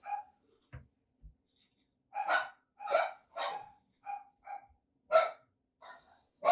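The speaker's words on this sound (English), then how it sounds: "But it's only the one dog barking, so at least they're not fighting." A single dog barks in short, loud bursts, some in quick pairs, broken by thin whines and whimpers between them, with no voices.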